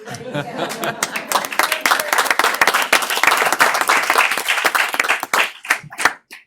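Audience members at a school board meeting clap loudly and steadily, a dense run of sharp hand claps that thins into a few scattered claps at the end, with some talk and light laughter mixed in.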